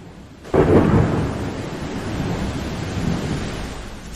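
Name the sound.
rain and thunder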